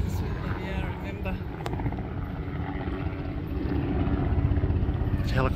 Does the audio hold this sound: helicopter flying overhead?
yes